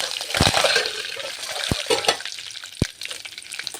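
Curry leaves frying in oil for puliyogare, a close crackling sizzle with loud splutters and a couple of sharp pops or clinks against the pan.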